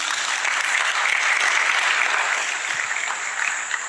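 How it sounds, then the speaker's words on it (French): A room full of people applauding a philosopher and an artist at a talk, with brisk, even clapping that holds steady throughout at a moderate distance. "Merci de les applaudir et de les accueillir encore"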